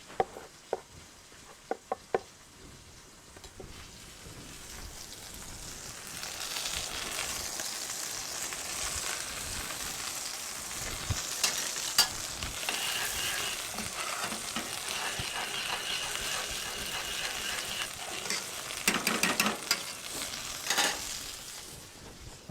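Chopped morel mushrooms sizzle and stir in a pan of sauce, a soft, steady frying hiss with occasional utensil clicks and scrapes, close and fairly quiet, with no talking.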